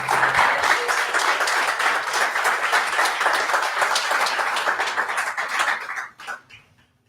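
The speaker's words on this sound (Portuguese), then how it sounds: "Você pode dar um aplauso a ele?" A church congregation applauding together, a dense sustained round of clapping that stays full for about six seconds and then quickly fades out.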